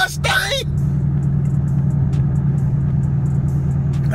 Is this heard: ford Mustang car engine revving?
yes